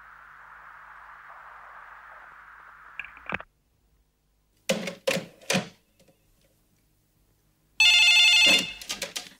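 Telephone rings in a quiet room: two clear electronic ring bursts in the middle, then a louder ringing burst near the end, after a soft steady hiss at the start.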